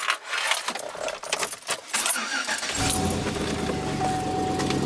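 Keys jangle and clink in a quick metallic burst, then a 2008 GMC Sierra 1500 engine starts and idles steadily underneath.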